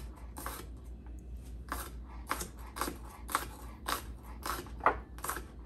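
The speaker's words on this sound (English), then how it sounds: "So we're going to get everything cut up." Vegetables for a red sauce being cut into same-size pieces, a series of close, crisp chopping strikes in an uneven rhythm, fairly loud over a low steady hum.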